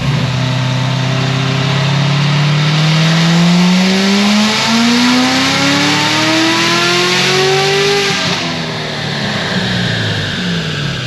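A Chevrolet C7 Corvette Z06 engine revs loudly on a dyno, its pitch climbing steadily through a sustained pull for about eight seconds before abruptly dropping off.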